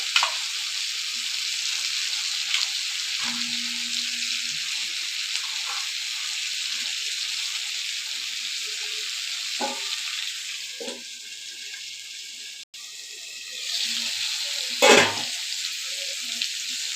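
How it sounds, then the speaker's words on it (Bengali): Fish sautéing in a pan: a continuous close hiss of frying oil with a few faint scrapes and taps, and a brief louder clatter near the end. "এবার মাছগুলো দিয়ে আবার কষিয়ে নেব।"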